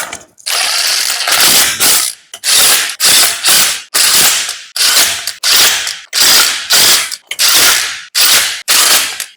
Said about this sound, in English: Set the torque wrench to 140 Newton meters and check all bolts